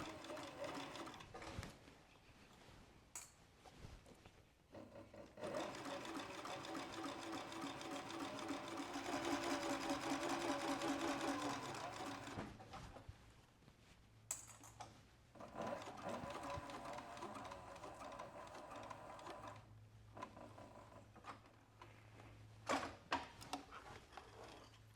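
A leather sewing machine mounted on its table stitches a leather tote in several bursts of rapid mechanical chattering, the longest run in the middle, broken by pauses with small handling clicks and thumps nearby.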